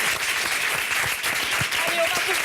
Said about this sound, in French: Applaudissements pour Julie Pietri, son bon parcours.